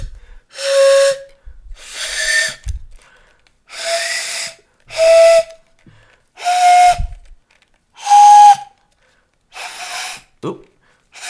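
Breathy whistling tones come from blowing into a homemade pan flute made of drinking straws: about eight separate short airy notes, each followed by a pause, close and clear, with slightly different pitches.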